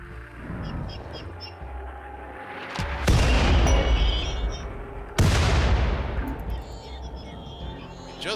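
Gunfire in a video game battle, heard as two heavy, booming shots a couple of seconds apart. Each one rings out loud and decays, with lighter background noise and someone talking between them.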